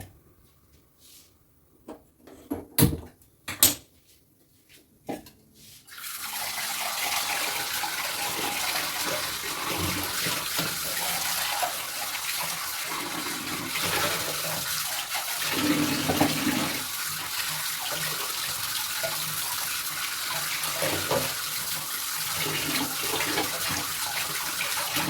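Tap water runs steadily into a kitchen sink while dishes are washed at home, a continuous close gushing rush that follows a few sharp clinks and knocks of utensils at the start.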